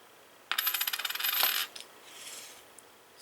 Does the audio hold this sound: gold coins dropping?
yes